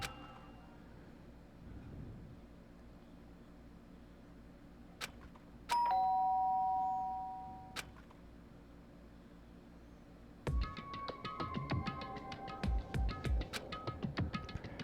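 A doorbell chimes in the video game Danganronpa: a clear two-tone ding-dong rings out over a faint background hum, followed later by louder, busier game music with tinkling notes.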